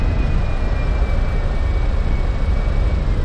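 Airplane engine in the X-Plane 10 flight simulator drones steadily throughout, a loud, even cabin-style roar with a faint high whine on top and no speech.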